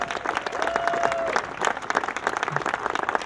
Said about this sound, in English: So a big round of applause for Tom.